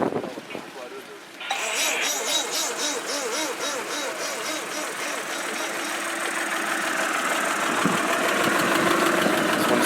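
A vintage Lancia Lambda car engine cranks briefly, catches and settles into a steady, throbbing idle at an outdoor Italian car show in Monterey. The engine is loud and close, with voices talking over it.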